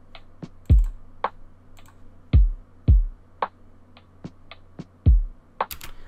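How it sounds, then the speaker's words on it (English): A lo-fi drum pattern programmed in FL Studio with a distinctive snare: sparse, punchy low kicks and crisp, clicky snare and percussion hits in a loose, laid-back rhythm, clear and with no voices. "But the only thing I added just a little unique is the snare here."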